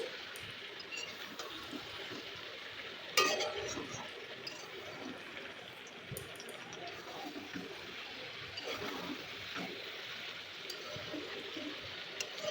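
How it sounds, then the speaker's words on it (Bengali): Chicken with pumpkin greens sautés in oil as the water cooks off, a soft continuous sizzle and bubbling hiss at low level with one brief louder stir or clatter near the start. "এরপর ভালোভাবে আমি কষে নিচ্ছি।"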